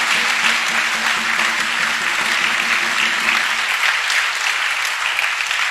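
A church congregation applauds to acclaim the Lord, dense sustained clapping from many hands, loud and steady for several seconds with no speech over it.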